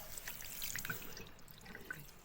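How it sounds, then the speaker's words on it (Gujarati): Water from a tap runs and splashes steadily over hands being washed at a sink, close and soft, with small irregular drips and trickles throughout and no talking. "ચાલો આપણે હાથ ધોઈ નાખીએ."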